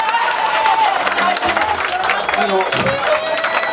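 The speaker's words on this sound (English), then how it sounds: "clap for me again" A launch-event audience claps and cheers for a speaker, a dense, steady wash of applause that runs the whole stretch, with a voice speaking briefly over it.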